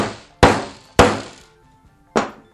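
A hammer strikes a metal rivet on denim jeans three times in a slow, uneven rhythm, each tap a sharp, close thunk that rings out and fades before the next.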